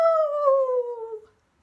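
A voice imitates a high, squeaky werewolf howl, a single close and loud sliding cry that falls in pitch and fades out after about a second.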